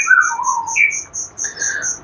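A white-rumped shama sings a series of clear, varied whistled phrases close by, with short pauses between notes and a quiet background.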